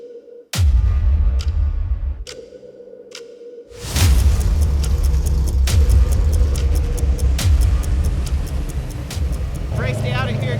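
A race truck engine idles and warms up at King of the Hammers, starting abruptly and then holding a loud, rough rumble up close with sharp bangs and clatter on top.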